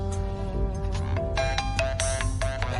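A telephone ringtone plays a repeating electronic melody of bright tonal notes, loud and steady over a low background hum, with no one speaking.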